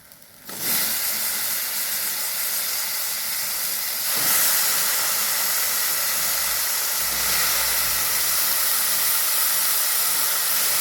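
Brinjal pieces hit hot spiced oil in a pan, setting off a sudden loud, steady sizzle that swells further partway through and keeps hissing close and continuous.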